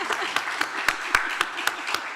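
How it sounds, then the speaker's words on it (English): An auditorium audience at a talk claps for a guest's mother, a fairly quiet, brief patter of applause punctuated by a few sharper, closer individual claps. "Could you give Kat's mom a round of applause?"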